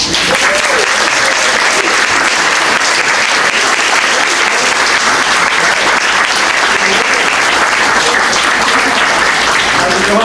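Thunderous applause from an audience welcoming guests Craig and Fred, a Marine and his stray dog, onto a stage for a chat event; dense, loud, continuous clapping that holds without letup throughout.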